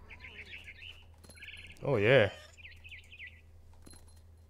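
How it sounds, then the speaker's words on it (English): Small bird chirping in the video game What Remains of Edith Finch, several short high trills scattered across the clip, moderately near and faint, interrupted by a brief spoken exclamation in the middle. "Then I heard chirping outside my window."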